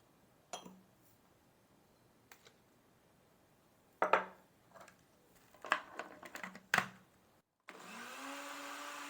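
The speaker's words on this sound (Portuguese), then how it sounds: "vamos lá misturar todos os ingredientes no liquidificador, bater um pouquinho só para ficar uniforme" Dishes clink a few times, then a blender mixing lemon pie ingredients starts up close by and whirs in a loud, steady whine to the end.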